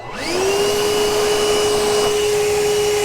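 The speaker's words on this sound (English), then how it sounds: "So now it can be a blower." A Milwaukee M18 cordless vacuum spins up after its hose has been moved to the blower port, then runs as a blower with a steady, loud whine and whoosh that holds constant to the end.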